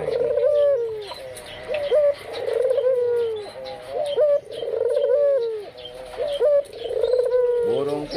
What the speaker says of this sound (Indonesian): Burung puter ini